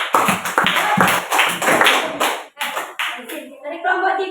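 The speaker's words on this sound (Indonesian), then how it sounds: "Tepuk tangan buat kelompok 2" Students in a classroom clap for a presenting group, loud close-up bursts of a few hands in uneven rhythm that break off after about two and a half seconds, then a voice speaks.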